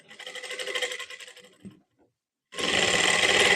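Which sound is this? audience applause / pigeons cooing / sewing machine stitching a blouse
sewing machine stitching a blouse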